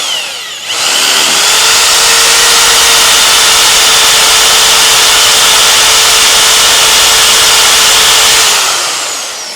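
A power drill bores out a 100-year-old rivet with cutting oil, a steady loud high whine holding for about eight seconds after a brief start-up, then tapering off near the end.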